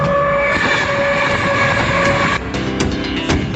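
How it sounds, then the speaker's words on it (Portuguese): The Lhasa Express passenger train races through industrial eastern China at over 110 km/h, a loud, close, continuous rail rumble and roar whose tone shifts partway through, with faint rhythmic clatter afterward. "Atualmente, o Expresso para Lhasa avança através da China Oriental Industrial a mais de 110 km por hora"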